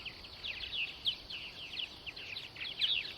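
Purple martins chirping overhead in the evening at Center Moriches, Long Island, New York, with faint, high, scattered chirps and short warbles coming from a distance over a quiet background.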